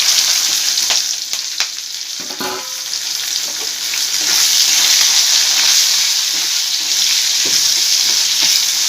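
Sliced onions and green chillies sizzle steadily in oil in a pan for a mutton liver fry, a loud continuous hiss with occasional stirring scrapes and pops, no talking.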